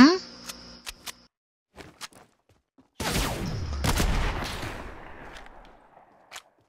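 Gunfire in a multiplayer video game: a few sharp isolated shots early on, then a loud sustained burst of shooting and blasts that fades out, with a last single shot near the end.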